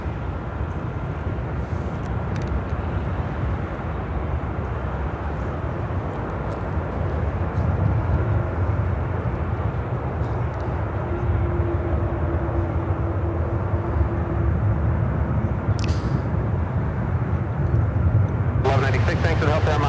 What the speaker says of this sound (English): Next arrival, United 75 from LAX.